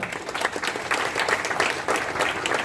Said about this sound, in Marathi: त्यांचे कार्यकर्ते यांच्यासाठी एकदा टाळ्या वाजवा